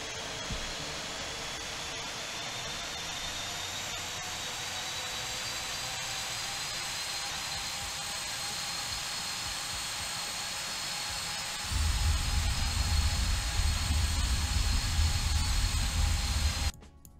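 Jet engines of a PMDG 737-7H4 in a flight simulator give a steady, loud whine with a broad roar beneath, rising and deepening in rumble near the end before cutting off abruptly.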